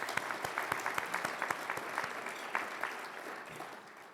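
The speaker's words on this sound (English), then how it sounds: "Big round of applause for them." An audience at a CEO of the Year awards event claps steadily, with many overlapping sharp hand claps forming a dense, sustained round of applause heard up close.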